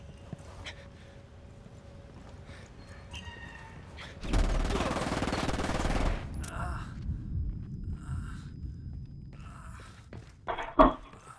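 A dense burst of gunfire in the video game Ghost Recon Wildlands, roughly two seconds of loud rapid shots amid otherwise quiet, scattered clattering and thumps.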